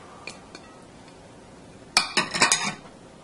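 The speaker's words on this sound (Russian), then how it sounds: "Смешиваем ингредиенты." Carrot, celery, apple and nuts tossed together in a bowl for courgette rolls, giving a quick cluster of close clinks and scrapes of utensil on dish after a quiet stretch with a couple of faint taps.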